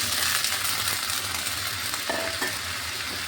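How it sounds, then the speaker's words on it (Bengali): Potatoes sizzling in hot spiced oil flavoured with asafoetida, a steady close frying hiss with light stirring and a few metallic clinks of a utensil against the pan. "মশলাটা ভালোভাবে ভেজে নিচ্ছি। এখানে আমি আলুটা দিয়ে দিচ্ছি।"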